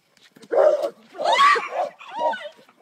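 A dog barks and yips in three loud, close bursts, each with a whining edge, in an indoor setting.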